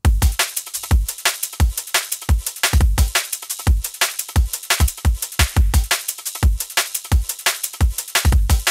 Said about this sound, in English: I do kind of like somewhat heavily compressed drums, heavily compressed within context of my music.